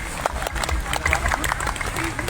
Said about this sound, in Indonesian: Sekali lagi 2 kali tepuk Pramuka.